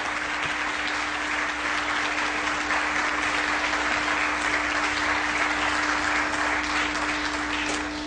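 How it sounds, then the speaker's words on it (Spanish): Sustained, dense applause from an audience at an award presentation honouring a speaker, a steady wash of many hands clapping evenly for several seconds with no break, with a faint constant hum beneath. "le brindamos un fuerte aplauso"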